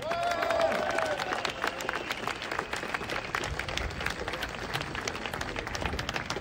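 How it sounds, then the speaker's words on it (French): A street crowd at an outdoor Paris protest rally against Emmanuel Macron applauds the volunteers. Dense, lively clapping with sharp individual claps and general crowd noise continues steadily throughout. "On peut les applaudir."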